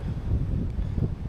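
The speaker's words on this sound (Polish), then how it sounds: "naprawdę przeszkadza trochę ten wiatr." Wind buffets the microphone in a steady low rumble, close and constant, with no other sounds.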